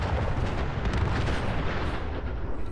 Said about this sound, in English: They're firing! Nukes inbound!